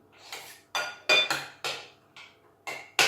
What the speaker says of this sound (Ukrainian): Каже, треба помішати. Помішати треба. Я мішаю.